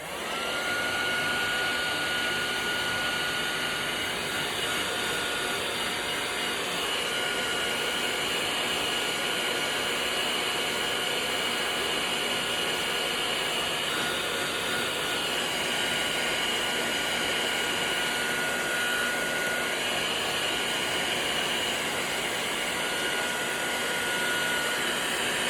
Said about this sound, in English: And then I'm simply going to get a hairdryer,